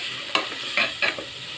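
Spice paste with turmeric and chili powder fries in hot oil for a chicken curry, with a soft steady sizzle and a few quick scraping strokes as the mixture is stirred in the pan.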